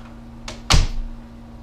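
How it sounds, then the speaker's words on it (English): A mudroom door closing in a house, a single sharp thud preceded by a faint brush, heard close and alone over a steady low hum. "mudroom door closed"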